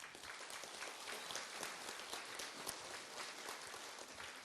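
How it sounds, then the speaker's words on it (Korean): An audience at a Korean senior citizens' association lecture in Goyang applauds a new branch chairman, a soft, steady patter of many hands clapping continuously throughout. "한번 박수 쳐주세요"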